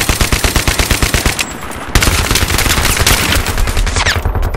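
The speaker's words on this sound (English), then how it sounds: "I'm just firing into the grass and I got somebody" Rapid automatic gunfire in Battlefield 3 multiplayer, with loud, fast bursts of rattling shots, a brief lull, then another sustained burst.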